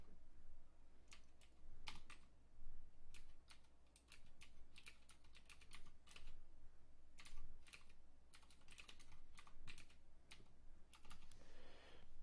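Computer keyboard typing runs for about twelve seconds as irregular bursts of sharp key clicks, close and fairly quiet, with short pauses between runs of keystrokes and no voices.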